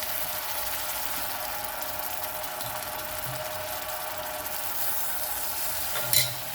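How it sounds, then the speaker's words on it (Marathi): Mutton in a pan with a little gravy added, giving a steady close-up sizzle and bubbling hiss with faint stirring scrapes and a short clink near the end. "थोडा रसा त्याच्यात टाकते"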